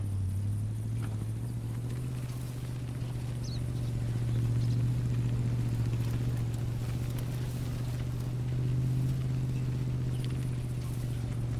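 A vehicle in theHunter Classic rolling across rocky ground: a steady, low engine drone that holds for the whole stretch and swells slightly partway through, with no voices.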